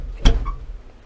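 A single solid thud of a door shutting, close by, followed by a brief faint rattle and quiet room noise.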